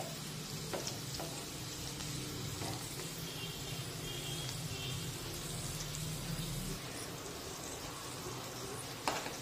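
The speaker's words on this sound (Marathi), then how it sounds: "झाकण न ठेवताच ही भेंडी आपण उलटपुलट करत दोन्ही बाजूने अगदी व्यवस्थित शिजून घेऊया" Stuffed okra (bhindi) filled with spicy masala fries uncovered in a pan, a steady soft sizzle with occasional clicks and stirring sounds as the pieces are turned, running continuously and fairly quiet throughout.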